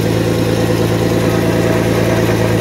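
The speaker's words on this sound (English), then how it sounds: "And that's our exhaust leak." A 1991 Mercedes 190E idles steadily with an exhaust leak, giving a constant close-up low drone with a faint rhythmic puffing texture and no voices.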